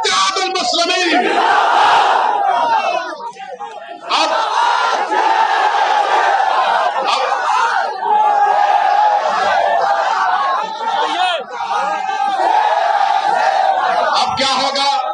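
A large crowd at an AIMIM political rally in Prayagraj roars back a slogan in loud, sustained unison shouts, with waves of cheering and chatter between the calls.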